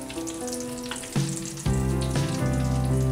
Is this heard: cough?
no